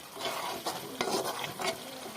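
Flat bean and poppy seed curry being stirred in a pan with a drizzle of raw oil, a soft sizzle under several scraping strokes of a spoon, fairly close and moderately quiet.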